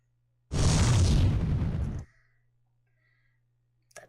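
A Fire spell cast in the video game Final Fantasy 4 bursts out as a loud, roaring blast lasting about a second and a half, then cuts off abruptly, leaving quiet background hum.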